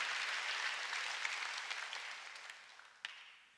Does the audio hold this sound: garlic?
no